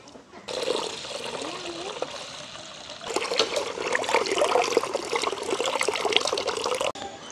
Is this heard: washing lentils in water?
yes